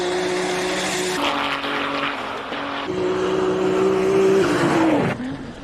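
A Formula One car running at the Simola hill climb in South Africa, its high-pitched engine howling close and loud, the note shifting between gears before falling away sharply at the end.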